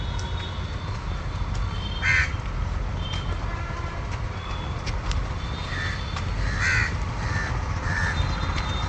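Crows gather in large numbers at a feeding spot in Bengaluru, scattered caws ringing out a few at a time over a constant low rumbling background hum, with no talking.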